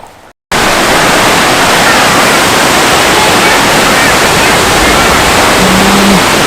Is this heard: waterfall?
yes